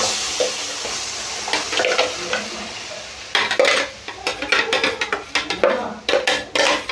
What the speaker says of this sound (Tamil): அரைச்சி வச்சுருக்க விழுதை இதோட சேர்த்துடலாம்.